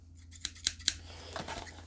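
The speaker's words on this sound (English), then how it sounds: "no clamshell can survive a pair of scissors" A pair of scissors snips through plastic clamshell packaging around a die-cast model car, a few sharp close crunching cuts followed by softer crinkling of the plastic.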